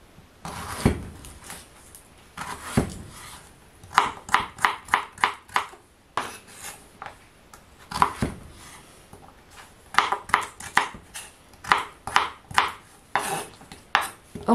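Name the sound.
knife chopping carrots into small cubes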